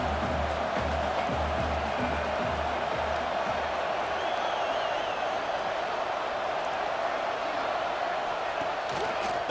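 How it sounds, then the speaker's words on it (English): Home crowd roaring in the stadium of the EA Sports College Football 26 video game, a dense, steady wall of cheering and noise that holds at full level throughout. "how nice is it to have the home crowd going absolutely bananas?"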